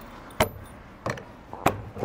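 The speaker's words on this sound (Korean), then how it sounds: "다시 열쇠를 풀러 가지고" A key works the lock of a Rightline Gear cargo box, making three distinct metallic clicks and jingles close by, spaced about half a second apart.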